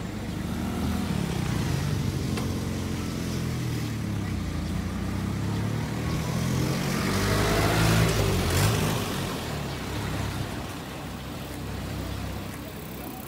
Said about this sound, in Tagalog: May trail bike pala rito.